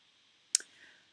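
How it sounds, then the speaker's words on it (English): A single sharp click from a computer mouse on a gear menu in Google Classroom, quick and close, followed by a faint tail against a quiet background with no speech. "the easiest way to do it is to click on the gear menu"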